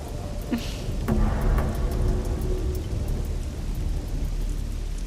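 A sudden heavy rain shower pours down in a dense steady hiss, with a low rumble of thunder underneath and occasional sharp drops close by.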